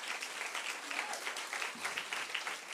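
An audience at a Philadelphia America 250 celebration event claps in a steady, even wash of applause, heard from a moderate distance without any voices on top.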